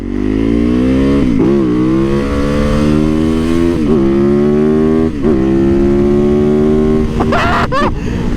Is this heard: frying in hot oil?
no